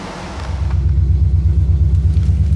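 A 1977 Chevy Malibu Classic engine running while driving, a deep, steady low rumble with a rhythmic pulsing throb, close and loud from inside the car.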